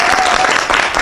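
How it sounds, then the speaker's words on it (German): Audience at the Blogsofa event breaking into applause for the host, a dense burst of clapping from a crowd nearby lasting about a second. "Jetzt einen großen Applaus für Wiebke"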